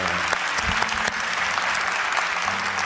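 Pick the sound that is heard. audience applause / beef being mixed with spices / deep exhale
audience applause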